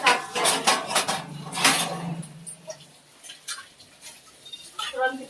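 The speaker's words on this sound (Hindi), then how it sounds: "फिर उन्हें मांजो अच्छी तरह, फिर इसे इस तरह धो, इस तरह धो।" Dishes, pots and pans being washed and scrubbed at home, with repeated metallic clinks and clatters and running-water scrubbing noises, later giving way to quieter rustles and scattered clinks.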